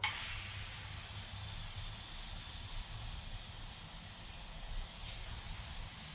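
Air and liquid sealant spurt steadily from the rim of a tubeless gravel bike tyre, a Panaracer GravelKing SK. The hiss is continuous and fairly faint, with a brief sharper spurt near the end and no talking.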